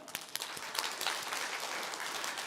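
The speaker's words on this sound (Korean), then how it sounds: "박수 한번." An audience in a Korean company seminar hall breaks into applause, a moderately distant, fairly soft patter of many hands with a few sharper claps at the start, sustained evenly for a couple of seconds.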